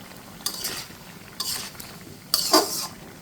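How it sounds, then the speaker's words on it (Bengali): Pumpkin and prawn curry stirred in a pan: three separate bursts of spoon scraping with a soft sizzle, each lasting about half a second, close and fairly quiet, with no talking. "বন্ধুরা, এই যে একটু নেড়ে ছেড়ে দিচ্ছি।"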